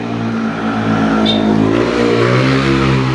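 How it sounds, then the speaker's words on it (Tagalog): A car engine revs and passes close by on a street in a small residential subdivision, loud and steady throughout with a mid-pitched rising drone. "Daming sasakyan dito, grabe, maya maya may dumadaan."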